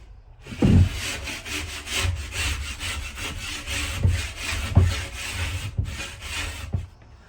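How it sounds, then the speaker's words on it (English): A hand rasp smooths the edges of heat protection board for a narrowboat fireplace, giving repeated close, rough scraping strokes in a steady back-and-forth rhythm with a few sharper knocks, and no talking. "So I'm just going to smooth the edges off with a rasp"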